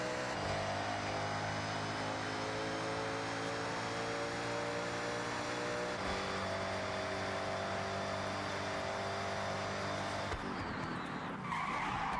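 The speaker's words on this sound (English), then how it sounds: "And they sound good too. I'm pretty sure this is still the stock engine." A stock Corvette engine in the racing video game Forza Horizon roars steadily with sustained revving and tire skidding, loud and close, pitch shifting as it drives.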